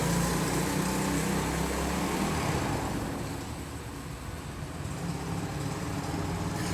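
A Chinese dirt bike engine revs steadily in second gear as the rider circles on a Toronto street, a continuous broadband motor drone that softens slightly midway before building again, with no talk.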